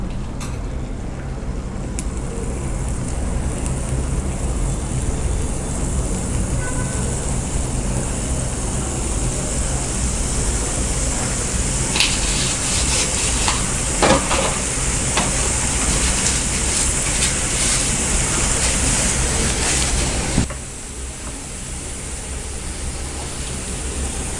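Jalebi batter deep-frying in hot oil gives a loud, continuous broadband hiss with scattered crackles, easing slightly near the end. No voices.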